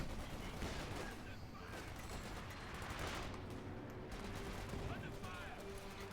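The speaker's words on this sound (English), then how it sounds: "Panther taking heavy hits from the anti-tank guns." Anti-tank guns fire on a Panther tank in the WWII strategy game Company of Heroes 2, a dense, continuous barrage of overlapping shots and explosions with a voice faintly underneath.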